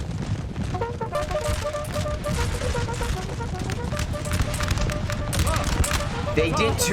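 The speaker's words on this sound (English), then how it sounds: "France did turn and fire directly at this hussar unit" Massed musket volleys crackle in a Napoleonic Total War 3 battle as French infantry fires on charging hussars, a dense continuous rattle of shots over battlefield din, with people talking over it.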